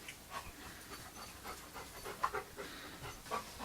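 A dog pants indoors with quick, soft breaths in a steady rhythm, close by but low in level over a quiet room, with nobody talking.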